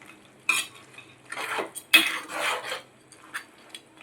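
A spoon scrapes and clinks against a pan while brinjal and prawn curry is stirred after turmeric goes in, giving several short metallic taps and scrapes spaced irregularly, fairly faint, with no talk.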